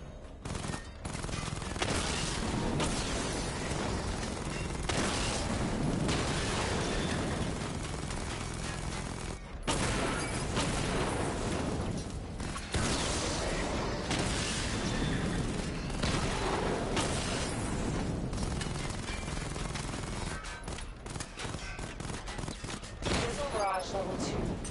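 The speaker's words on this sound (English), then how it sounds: "Charge the missile barrage to level 2 to destroy up to 4 targets at once." Missile barrage firing in a video game: a dense, loud, continuous roar of rapid launches and blasts that keeps going with only brief dips, busy and chaotic throughout.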